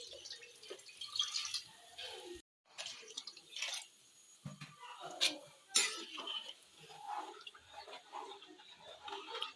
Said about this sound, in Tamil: நான் 3 சொம்பு தண்ணி ஊற்றுவேன்